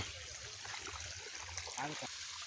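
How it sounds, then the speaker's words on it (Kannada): Water running through irrigation pipes laid between rows of a sugarcane field, a steady broadband flowing rush with faint trickling, continuous and close, with a voice speaking over it. "ನೋಡ್ರಿ ಇಲ್ಲಿ ಹಿಂಗೆ ನೀರು ಹೊಂಟಾವೀಗ."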